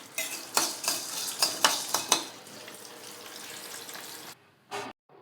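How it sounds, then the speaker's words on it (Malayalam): Masala curry stirred with a spoon in a pan, a series of sharp scraping clinks in quick rhythm over a soft sizzle, then a pause and a brief final stir. "അതിലേക്ക് ഇതൊന്ന് ആഡ് ചെയ്ത് കൊടുത്തു നല്ലോണം ഒന്ന് ഇളക്കി വെച്ചു കേട്ടോ"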